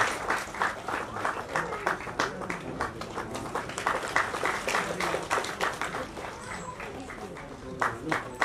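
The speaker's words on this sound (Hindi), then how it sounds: "तालियों की गड़गड़ाहट समाप्त नहीं होनी चाहिए" Audience at an office retirement ceremony clapping in a lively, irregular burst of many hands, fairly close, with voices talking over the applause throughout.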